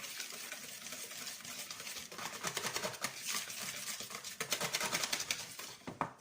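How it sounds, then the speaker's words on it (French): A whisk or spoon stirring a smooth batter in a bowl, a steady wet patter with quick rhythmic clicks against the sides, close and continuous without talk. "On mélange, on mélange, on mélange."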